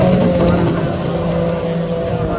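A race boat with a big Yamaha 244 engine roars past at a sprint race, a loud, steady engine drone close by with a slight pitch shift as it goes, under a commentator's voice.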